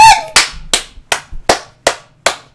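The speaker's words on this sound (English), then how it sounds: "If you're happy and you know it, clap your hands." Hands clap along to a children's song, seven sharp, loud claps in a steady rhythm, close and alone, with a brief voiced sound at the start.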